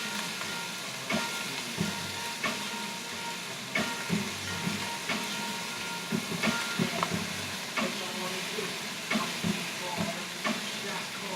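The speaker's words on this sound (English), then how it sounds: "You just saute the vegetables and the zucchini noodles, which are apparently endless." Vegetables and zucchini noodles sauté in a pan with a steady, close sizzle that runs throughout, broken by small clicks and scrapes of stirring.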